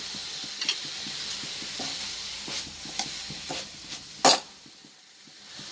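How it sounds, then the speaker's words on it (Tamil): Curry leaves sizzle in hot oil with beetroot for a Kerala beetroot thoran, a steady soft frying hiss broken by repeated light scrapes of stirring and one sharp clatter near the end. "இப்போ இது கூட கருவேப்பிலை சேர்த்துக்கலாம்."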